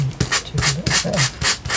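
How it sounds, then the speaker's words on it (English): Repeated rasping strokes of sandpaper or a sanding block against the edge of a paper folder, close and steady, with about six evenly spaced back-and-forth rubs in quick rhythm. "if you just sand it down a little bit, it then matches"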